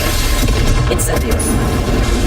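Incendio fire spell blast in the video game Hogwarts Legacy: a loud, booming burst amid continuous noisy game sound, without clear separate impacts.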